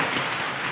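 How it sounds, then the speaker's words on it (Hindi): Heavy stormy rain with hail pours down in a dense, steady roar, loud and continuous over a short stretch with no voices. "किस्म की तूफानी बारिश लगी है"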